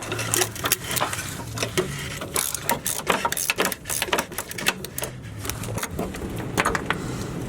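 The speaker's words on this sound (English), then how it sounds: "I'm going to be using an extension to get at the bolt from the top." Ratchet wrench on an extension working a bump stop bolt from above on a Chevy Silverado, giving rapid, close metallic clicking in uneven bursts with brief pauses.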